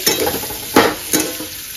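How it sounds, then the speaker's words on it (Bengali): Potatoes sizzle steadily in a hot pan, with a couple of sharp scraping stirs of a spatula breaking through the frying hiss. "এখানে ফুলকপি পনির আর আমি আলুটা ভাজছি"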